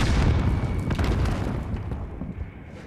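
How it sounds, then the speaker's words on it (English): Sticky grenades explode in the shooter game Warzone, a loud, dense boom right at the start that rumbles on and fades slowly over a few seconds, with a faint small burst near the end. "I'm gonna throw sticky grenades."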